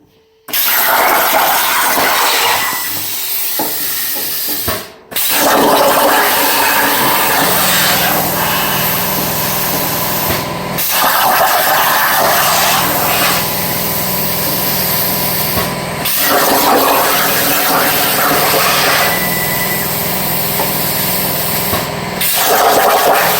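Crossfire Pro CNC plasma table cutting through a program: a loud, steady hissing roar that runs in long bursts, broken by a few short pauses. There is no talking.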